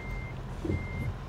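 A truck in a driving game backs up with a steady electronic reversing beep, two sustained tones under low engine rumble.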